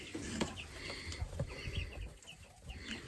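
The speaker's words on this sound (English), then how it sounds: "Chicks." Many small chicks, meat and layer chicks in a brooder, peep and cheep together, close and busy, short high calls overlapping constantly.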